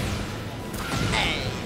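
A wall explosion in the fighting game Tekken 8, during a tournament match: a loud, broad crash hits over steady game noise, followed by a rushing, swishing tail.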